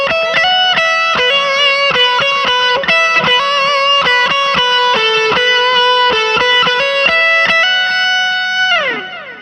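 Electric guitar run through a BOSS GT-1 multi-effects unit combined with a ZOOM G1 FOUR, with distortion and reverb on, playing a steady chordal riff of sustained, layered notes that rings out loud and alone before a closing pitch bend.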